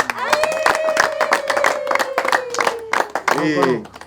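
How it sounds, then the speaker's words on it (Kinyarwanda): Audience applause for a couple at a Rwandan family gathering: dense, steady clapping from many hands runs throughout, with a voice speaking loudly over it. "mwongere rwose muhaba abana bacu amashyi"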